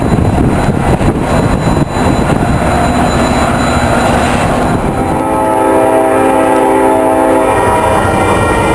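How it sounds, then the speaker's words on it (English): A trio of eastbound SD70 locomotives running light rumbles past close by, and the loud sustained horn sounds over the engine drone, with steady harmonic blasts toward the end. "I catch this eastbound trio of SD70s running light"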